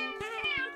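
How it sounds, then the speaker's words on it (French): Newborn kittens meowing: a single thin, high, wavering mew lasting under a second, close and clear, with a few soft low thumps underneath. "on dirait que la chatte de Pâques vient d'avoir des petits"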